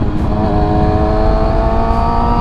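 A 600cc sport motorcycle engine holds around 8,000 RPM at traffic speed, giving a loud, steady, high-pitched scream with constant harmonics and faint wind rush, close up and without speech.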